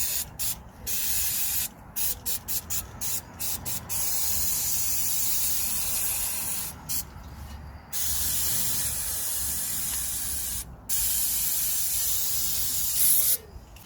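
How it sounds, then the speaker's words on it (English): Brake cleaner sprays onto a Volkswagen Caddy van's rear brake assembly in long, loud hissing bursts. Several short spurts come first, then longer continuous blasts separated by brief pauses. "I'm just gonna clean it with the brake cleaner."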